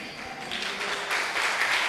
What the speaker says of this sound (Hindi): बस आपकी तालियां अच्छी थी